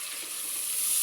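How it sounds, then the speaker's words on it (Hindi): Onions and tomatoes sizzle in hot oil in a pan, giving a steady, fairly quiet crackling hiss for a brief moment with no voices. "ऑयल डाल चुके हैं और प्याज ब्राउन हो रहा है, ब्राउन हो रहा है प्याज। टमाटर डाल दिए"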